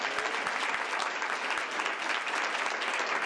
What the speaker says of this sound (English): Why don't we give a round of applause to everybody?